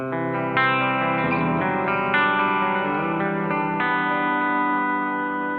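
A clean electric guitar plays sustained chords and notes, washed in delay and reverb so each strum rings and echoes into the next.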